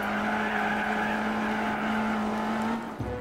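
Race car engine holding a steady loud drone with tire squeal layered on top in Gran Turismo 4, a front-engine rear-wheel-drive car, continuous for about three seconds before a sudden drop near the end.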